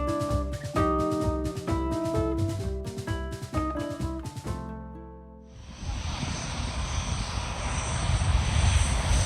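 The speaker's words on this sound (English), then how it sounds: "visiting the world famous Maho Beach, where you can watch the planes land right next to the beach" A fixed-wing airliner comes in to land low over Maho Beach on St Martin, its engine roar rising into a loud, broad rush after a stretch of music at the start.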